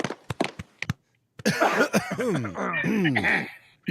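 Several short, sharp coughs in quick succession, then a pause before people laugh and talk loudly together.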